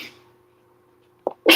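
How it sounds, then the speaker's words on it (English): A short snort is followed by a sudden, forceful sneeze from a dog, close and loud after a brief quiet pause. "Let him get through his sneezing fit"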